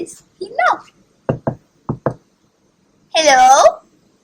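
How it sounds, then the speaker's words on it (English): Four crisp knocks in two quick pairs rap on a little wooden door set in an oak tree, heard between a storyteller's spoken lines. "And being the polite fellow that he is, he knocked."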